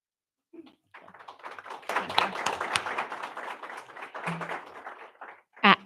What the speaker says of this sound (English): Let's give Emma Waters another round of applause.